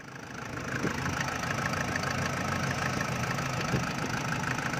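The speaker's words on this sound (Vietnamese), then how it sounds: "máy dầu đang hoạt động đó" A turbo diesel engine in a 2001 SsangYong Musso idles steadily, a continuous low rumble with an even mechanical clatter, close by and moderately loud, with no voices.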